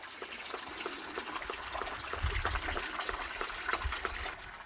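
Water trickles and splashes down a screen-like waterfall rock along a riverside cliff trekking trail, a steady, close wash of spray and dripping that carries on without pause.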